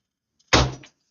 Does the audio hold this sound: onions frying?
no